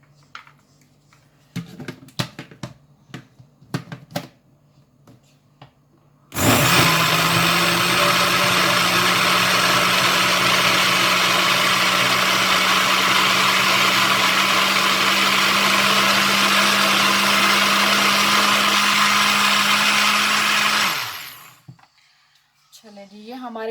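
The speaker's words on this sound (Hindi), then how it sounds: "अभी हम इसको ग्राइंड कर लेंगे इनको भी। जो हमारे ड्राई इंग्रेडिएंट्स हैं, स्पाइसेस हैं," An electric grinder whirs loudly at full speed for about fifteen seconds, crushing dry spices and chili flakes, after a few brief clicks and knocks, then winds down and stops.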